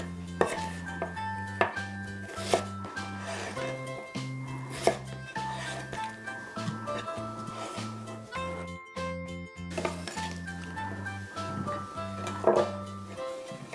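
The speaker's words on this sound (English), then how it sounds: "I'm actually going to cut each of the slices into quarters" A knife cuts potato slices into quarters on a board, giving a run of sharp, irregular taps and clunks up close, with a steady tonal hum underneath and a short quiet gap partway through.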